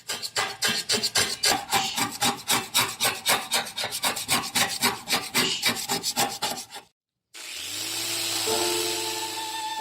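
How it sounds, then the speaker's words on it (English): Steel sheet scraping the surface paint off an old sewing machine being converted into a jigsaw, a steady series of rhythmic rasping strokes, close and loud, broken by a brief gap before a duller continuous rub. "With a steel sheet I removed the superficial part of the paint."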